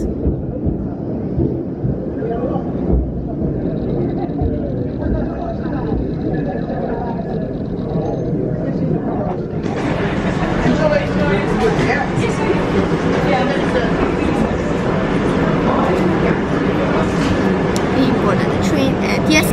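A London Underground train rumbles into a station, its roar growing louder and brighter about halfway through, with people talking faintly underneath.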